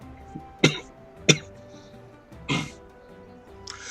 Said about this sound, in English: I do apologize for the cough